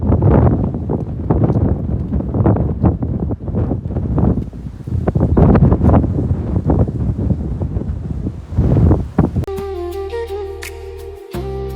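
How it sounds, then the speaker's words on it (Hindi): Strong, gusty wind roars loudly outdoors, buffeting the microphone in continuous rough bursts, with dust blowing all around; near the end the wind gives way to a brief stretch of music. "इतनी भयंकर हवा चल रही है, देखो धूल ही धूल चारों तरफ।"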